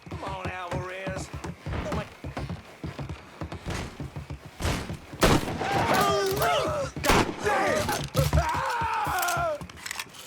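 Sharp gunshots crack out from a Mafia 3 firefight in several uneven bursts, heard between and over shouting voices.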